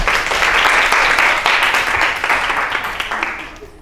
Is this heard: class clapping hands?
yes